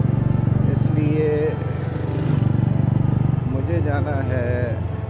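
A motorcycle rides along an ordinary road, with a steady low engine drone and rhythmic pulsing from the engine throughout. Someone speaks over the engine noise.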